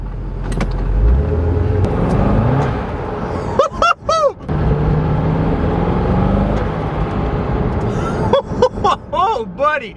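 A twin turbo Lingenfelter Corvette revving hard while spinning 345 Sport Cup 2 tyres, with a loud, close engine roar and rising and falling revs. Someone talks over it at intervals.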